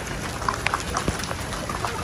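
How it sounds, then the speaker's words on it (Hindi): Steady rain patters onto a rooftop, a dense hiss with scattered droplet ticks throughout, close and even in level. "अभी सही बारिश हो रही है"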